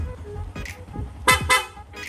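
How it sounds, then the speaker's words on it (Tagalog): Loud aftermarket dual horn on a Yamaha Sniper 150 motorcycle sounds in short close blasts, first a quick toot, then two strong honks and a final one, over a low idling engine hum. "Tapos loud horn, press lang po natin yung hollow switch. Yung busina ni sir, lalakas na."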